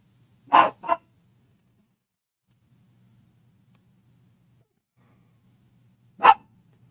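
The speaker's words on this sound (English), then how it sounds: "These folks don't want to hear you barking." Two quick, sharp dog barks close by, then a long quiet stretch with a faint low hum, and one more single bark near the end.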